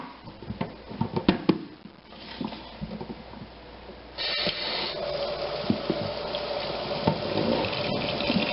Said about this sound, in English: Once the leaves are all separated, we want to wash them, get all the bugs and any dirt and such